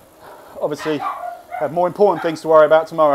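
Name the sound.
dog barking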